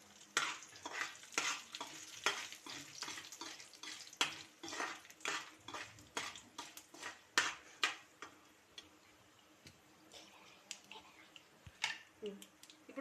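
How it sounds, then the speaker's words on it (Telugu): Mustard seeds and dried red chillies crackling in hot oil in a pan for a chana dal chutney tempering, a steady close sizzle with rapid popping and occasional utensil clinks. "కొంచెం ఆవాలు వేసుకుందాం. మిర్చి వేసుకుందాం, ఎండుమిర్చి."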